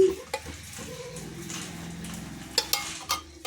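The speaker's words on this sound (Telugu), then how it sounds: "ఇప్పుడు నెయ్యి వేసుకుందాం, జీడిపప్పు వేపుకుందామండి." Cashews frying in ghee in a heated pan for carrot halwa, with a soft steady sizzle beneath several sharp clinks and scrapes of a utensil against the pan, close by and with no voices.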